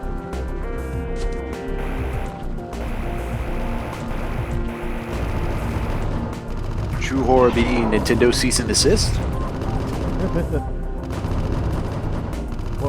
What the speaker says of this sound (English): that actually sounds like machine gun fire